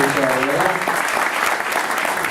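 Sustained applause from a crowd at a political event in Miramar, Argentina, dense continuous clapping at even loudness throughout, with a voice briefly audible underneath.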